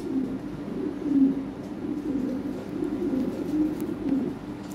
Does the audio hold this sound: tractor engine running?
no